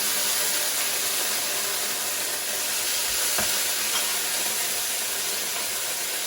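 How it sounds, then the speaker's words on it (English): Beef pre-cooking in very hot oil for a beef and oyster sauce stir fry gives a loud, steady broadband sizzle with one brief popping spit partway through, heard alone and close. "I'm just going to pre-cook my beef, just so it doesn't broil when we do the stir fry with all the veggies"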